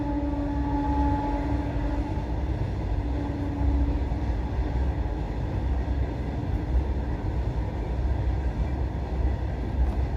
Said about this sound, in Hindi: ये जो ट्रेन की आवाज़ आ रही है आप लोगों को हमेशा 5 मिनट के अंदर अंदर आती रही